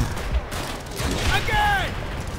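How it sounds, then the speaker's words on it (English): Panzerschreck rocket launches and battlefield gunfire in Call of Duty: World at War, a sharp blast followed by rumbling fire and a whistling, falling tone, mid-distance under game noise. "Fire the Panzerschreck! Use the rockets!"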